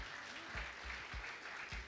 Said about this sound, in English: Now, one more round of applause for all our judges.